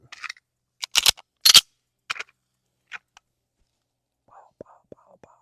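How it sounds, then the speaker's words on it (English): A handgun drawn and fired five rounds into the A zone of a target from the 25-yard line, heard as a quick run of sharp, loud cracks spread over about two seconds, followed by a pause and brief quiet speech. "Just simply going to draw and shoot 5 rounds into the A zone."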